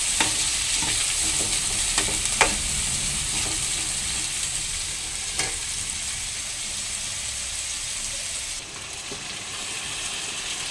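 Curry cooking in a pan, a constant sizzle under repeated scraping and clinking of a spoon stirring it, steady and close.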